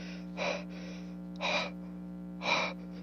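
Someone out of breath pants in three short, sharp breaths about a second apart over a steady low electrical hum.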